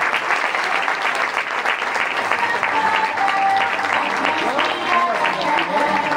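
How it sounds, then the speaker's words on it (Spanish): Steady applause from a crowd at a football club's season presentation fills the whole stretch, loud and continuous, with some voices mixed in. "Fuert aplauso per al juvenil del Camp Parellada, sisplau."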